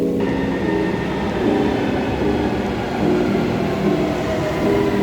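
Steady rumble of a metro train in Istanbul, heard from inside or on the platform, a continuous low rolling roar with faint rail hum throughout and no voices.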